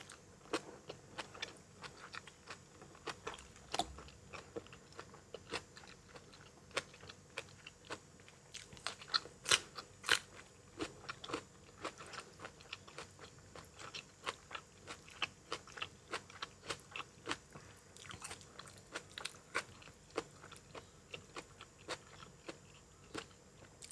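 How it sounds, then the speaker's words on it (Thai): Crunchy chewing and biting of bitter gourd eaten with spicy Thai bamboo shoot soup, close and steady, with repeated crisp bites through the whole stretch and no talk. "เคี่ยวกรุบกรุบกรุบดี"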